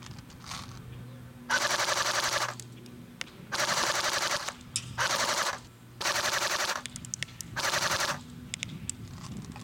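A CYMA CM.036 AKM airsoft gun fires full auto in five rapid bursts of clattering shots, each lasting about a second, separated by short pauses.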